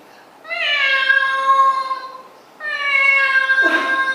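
A cat gives two drawn-out, clear meows separated by a brief pause, close and fairly loud, the second ending with a short noisy burst.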